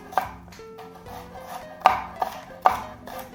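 Knife roughly chopping garlic cloves on a board, a few sharp close taps spaced irregularly, with faint scraping between strikes.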